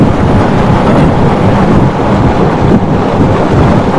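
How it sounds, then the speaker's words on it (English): Loud, rough wind buffeting a microphone outdoors by the water while catfishing, a constant roaring rumble with no talking. "This wind blowing like this."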